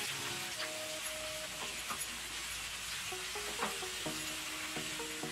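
Broad beans fry with coconut chili powder in a pan while being stirred, a steady close sizzle with occasional scraping strokes. No one speaks.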